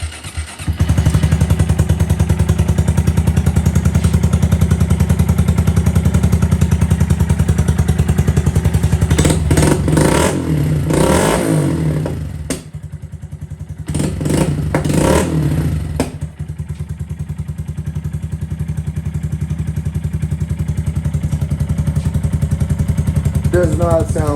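A Honda Grom motorcycle fitted with an iStunt aftermarket exhaust idles steadily and loudly up close, with a few sharp revs in the middle before settling back to a rumbling idle.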